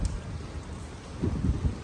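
A brief burst of heavy monsoon rain pouring down in a dense, steady wash during flooding in Vadodara, India, with low rumbling swells underneath.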